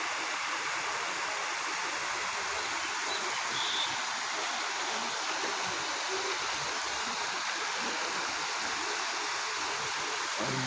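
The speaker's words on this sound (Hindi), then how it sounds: "और ये नदी यहाँ सरयू जी को मिलती है, ये संगम है।" A mountain river rushes into the Saryu at a confluence in Bageshwar, Uttarakhand, giving a steady, dense roar of flowing water that never lets up.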